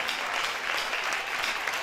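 Audience applause for an acclaimed trumpeter at a trumpet semi-final competition in Benin, a dense, steady wash of many hands clapping with no voices over it, filling the whole stretch at even loudness.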